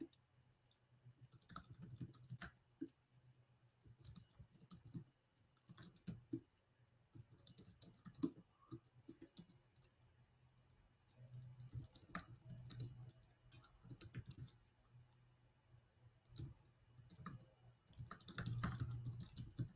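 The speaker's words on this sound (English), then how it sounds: "I'm typing it in the chat window here" Soft, irregular clicking of computer keyboard typing in bursts, close by and quiet, with no talking.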